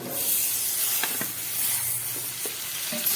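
Steady sizzling of marinated mutton frying in hot oil with tomato, with a few soft clinks and stirring scrapes over the continuous hiss.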